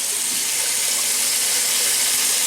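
Warm water runs steadily from a bathroom tap before a shave, a loud, close, continuous hissing splash that holds even for the whole stretch without talk.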